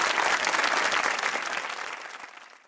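A studio audience on a Pakistani comedy talk show breaks into a short burst of dense clapping that tapers off within a few seconds.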